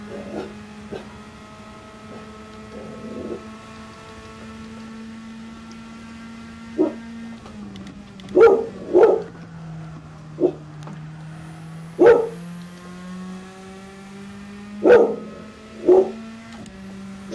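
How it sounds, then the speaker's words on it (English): A dog barks in single and paired yips, well spaced across the span, set against a steady electronic hum and drone from a racing game running in the room. "that's probably my dog barking"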